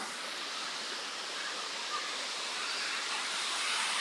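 A river flowing in the rain, a steady, even rush of water without pauses or voices.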